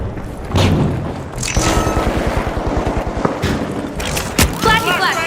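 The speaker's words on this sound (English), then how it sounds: "Using a flashbang." A flashbang grenade goes off in the shooter game The Finals with a loud booming burst, followed by rapid rattling gunfire and further sharp cracks, all close and dense, with voices talking over the action.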